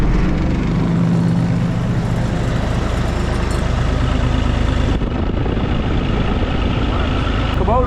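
Kubota R430 wheel loader engine fitted with a new exhaust, running steadily with a deep low rumble throughout, close and continuous.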